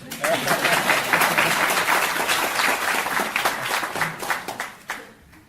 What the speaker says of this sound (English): A round of applause for my assistant.